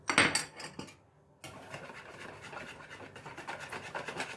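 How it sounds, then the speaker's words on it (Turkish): A spoon scrapes and stirs through chicken wings and potatoes coated with tomato paste, thyme, chili flakes, salt and curry spice, close scraping strokes with a brief pause before steady mixing resumes. "İyice karıştırıyoruz."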